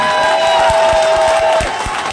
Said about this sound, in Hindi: एक बार जोरदार तालियां उनके लिए आप बजा दें